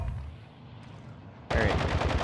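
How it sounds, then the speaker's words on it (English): Rapid video-game gunfire erupts in a loud burst of evenly spaced shots after a quieter stretch of low background noise, with no talking. "I come around here and shoot him."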